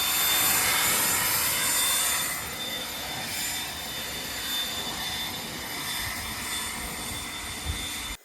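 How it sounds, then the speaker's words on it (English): A leaf blower runs steadily close by while ash is spread out, a continuous broadband roar that eases slightly after a couple of seconds and stops abruptly at the end, with no talking. "So I spread out the ashes with the blower."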